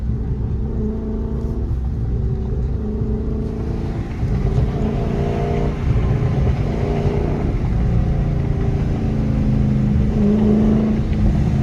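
A 392 car accelerating hard in first gear, heard from inside as a loud, continuous low engine roar and rumble that builds steadily through the whole stretch without a break.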